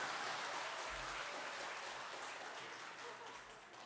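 A church congregation applauds during a Sunday service, a dense wash of clapping that starts full and slowly fades over a few seconds, with a voice speaking faintly beneath it.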